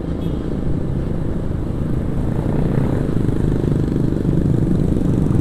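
A modified motorcycle rides along, its engine giving a steady, loud, low rumble that continues without a break as the bike moves toward the main road.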